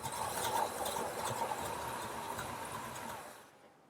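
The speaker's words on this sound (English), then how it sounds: "Engine really sounds good." A 1951 Chevrolet five-window pickup engine runs with a steady, even rumble and light rattle, then cuts off near the end and goes quiet.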